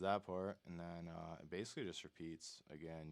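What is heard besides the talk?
None of the usual background noises is heard.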